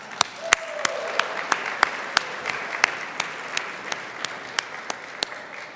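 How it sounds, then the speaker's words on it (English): Conference audience applauding at the opening of the 2017 BUNEEC Conference, a sustained patter of many hands with a few sharp, close individual claps standing out at regular intervals, no voices. "Let's get a quick round of applause for that, showing up."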